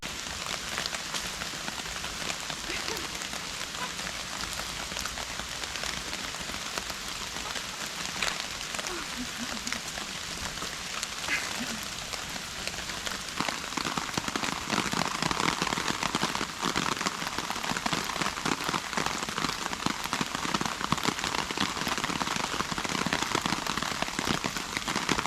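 Steady rain patters on a tarp shelter in autumn woods, a dense continuous hiss with scattered drop ticks that grows slightly louder partway through, no talking.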